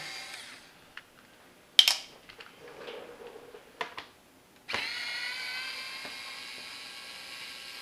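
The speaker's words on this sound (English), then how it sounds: "Little cordless screwdriver with of course with the star bit in." A small cordless screwdriver with a star bit works on the headlight assembly of a KTM 1190 motorcycle, with scattered clacks and taps of handling and then a sustained, high motor whine that runs steadily to the end.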